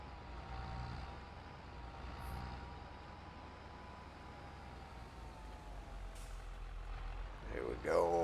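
A tractor in a farming video game drives along with a steady, fairly faint engine drone throughout, and a brief clatter near the end.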